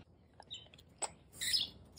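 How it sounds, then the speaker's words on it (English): Birds squabbling outdoors, giving a few quiet, sharp chirps and a brief shrill burst of calls near the end, over a faint background. "Those birds are fighting."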